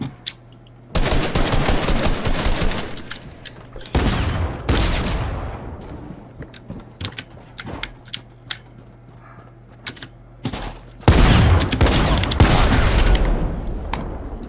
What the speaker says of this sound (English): Shoot him with your AR